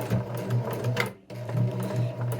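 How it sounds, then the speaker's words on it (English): A sewing machine back-stitches along the opening of a silk pouch, its close, rhythmic mechanical whir pulsing in quick bursts and stopping briefly before it runs on again. "And this time we are going to back stitch, because this is going to be the opening of the pouch"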